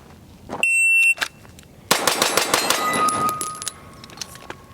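Rapid pistol shots from a Glock on a shooting run, fired as a fast string of sharp, close, loud reports over about two seconds, following a shot timer beep.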